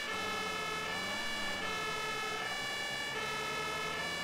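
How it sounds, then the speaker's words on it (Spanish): A fire engine siren wails continuously in the video game Emergency Call 112, a loud, steady electronic tone that slowly rises and falls over a low vehicle rumble, with no voices. "Sirena."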